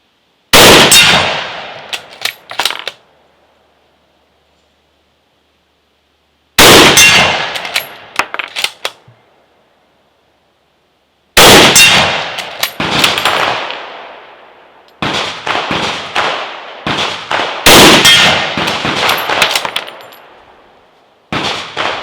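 Shots from an M48 Mauser rifle striking a steel silhouette target at about 90 yards, each loud crack followed by a ringing metallic clang, in several separate bursts with quiet gaps between them.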